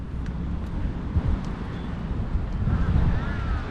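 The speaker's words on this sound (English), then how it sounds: "And it's kind of windy." Wind buffets the microphone outdoors in a city park near the Terminal 21 mall, a steady low rumble with gusts and faint distant traffic beneath.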